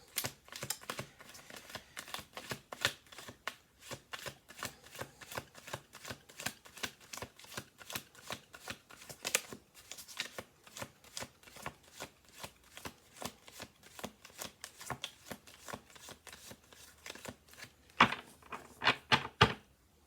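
A deck of cards gets shuffled over and over, a dense run of crisp riffling clicks in close, quiet bursts with a few louder snaps near the end.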